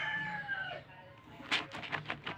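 Chickens cluck and crow in a rural yard, a drawn-out call fading before a quick burst of sharp clucks, fairly close and with no talking.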